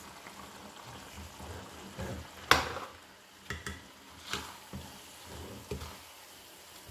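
Soaked mash (urad) dal being stirred into a frying masala, with soft wet sizzling and occasional scrapes and clinks of a spoon against the pan, moderately close, no talking.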